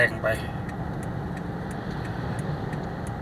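A car follows close behind on a narrow park road through Nam Nao national park, its steady engine and road rumble droning near and constant throughout.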